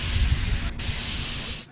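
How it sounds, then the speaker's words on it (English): Purple spray paint hisses out of an aerosol can as a Ravens grounds crew paints the team logo on Patriot Plaza, a steady close hiss with a brief break partway through. "The Ravens grounds crew is at it again, spray painting their logo in all places, Patriot Plaza."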